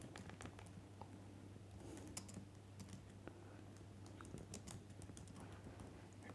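Computer keyboard typing while entering company information into a financial model spreadsheet, a steady run of light, quick key clicks close by over a constant low hum, with no talking.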